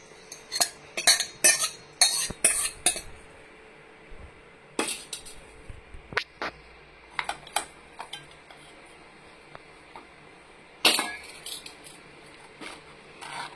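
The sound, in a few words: stirring gravy into brinjal chutney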